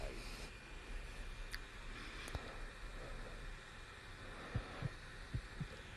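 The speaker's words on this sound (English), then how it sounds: "Oh my god, heartbeats." A heartbeat sound effect thumps low and muffled, a few soft beats clustered near the end over a constant hum and hiss, with no talk.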